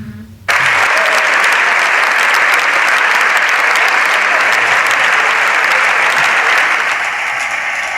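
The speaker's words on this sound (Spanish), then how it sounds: "están aplaudiendo a Feijóo" A parliamentary chamber bursts into loud, sustained applause for Feijóo, dense clapping starting abruptly and holding steady throughout.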